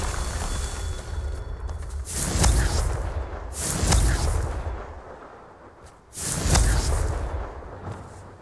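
Confringo fire spells blast in Hogwarts Legacy, three heavy booming impacts spaced about two seconds apart, each a loud rumbling burst that swells and fades, with no talking.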